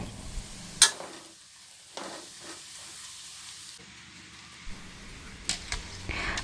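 Chopped garlic frying in oil in a pan for Thai pork noodles, stirred as it cooks: a steady soft sizzle, with sharp metallic scrapes and clinks of the utensil against the pan now and then.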